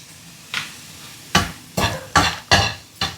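Prawns are sautéed in a pan with a spatula, making about six rhythmic scraping strokes over a soft, constant sizzle, heard close with no talking.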